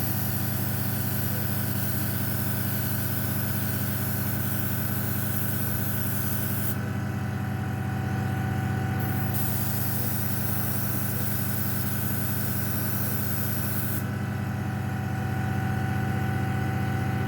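Spray paint hissing onto a 1/72 scale Airfix Short Tucano model, a loud continuous spray under a steady hum, with the hiss briefly dropping out twice before resuming.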